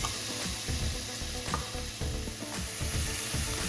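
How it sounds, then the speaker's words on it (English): About a cup of peppers and onions sizzles in a heated oil skillet, giving a steady close-up hiss with repeated knocks and scrapes from stirring, loud and continuous from start to end. "to my heated oil skillet, I'm gonna add about a cup of peppers and onions"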